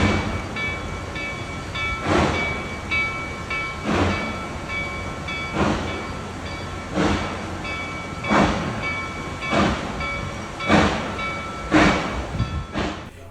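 A train hauled by a 4-8-4 Northern steam locomotive backs slowly into a station, with rhythmic heavy clunks every couple of seconds from wheels crossing rail joints and a steady mechanical drone underneath.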